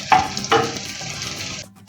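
Onion and egg scramble frying in a pan while being stirred, two sharp scraping strokes over a bright steady sizzle that cuts off abruptly near the end.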